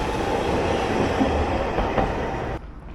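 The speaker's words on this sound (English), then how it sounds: "There goes the tram." A tram rolls past on a street in Osaka, a loud, steady rumble of wheels on rail filling nearly three seconds before cutting off abruptly near the end.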